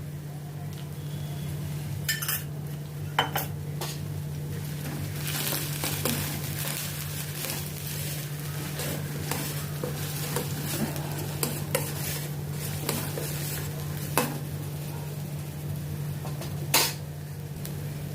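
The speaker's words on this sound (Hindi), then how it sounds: "इसको भी अनियन के साथ मैं सौटे करती हूँ।" Onions sauté with ginger garlic paste in a pan, giving a soft continuous sizzle under repeated stirring scrapes and sharp utensil clinks against the pan, over a low steady hum.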